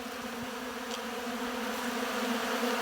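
Honey bees swarm an open sugar syrup feeder in spring, a dense steady buzz filling the air with a constant drone and no voices.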